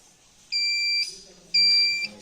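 A smoke detector on a Bosch FPA-1200/FPA-5000 fire alarm panel system sounds during a test, giving two loud, sustained electronic tones of about half a second each, separated by a short gap, with faint voices underneath.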